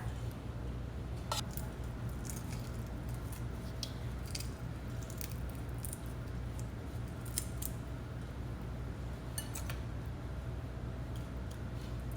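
Shrimp being deveined with small scissors, a steady low background hum with sharp snips and light wet clicks scattered a few at a time, close and quiet, with no talk.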